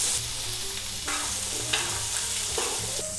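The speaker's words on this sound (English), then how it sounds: "Quickly stir fry." Cucumbers stir-fried in a little oil over high heat, a steady close sizzle broken by scraping stirs and occasional clacks of the utensil against the pan.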